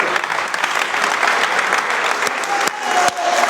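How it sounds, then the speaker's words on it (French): Dense applause from a crowd of players and staff at a team selection event, steady and sustained throughout with a few sharper claps standing out near the end. "tout le monde s'applaudit"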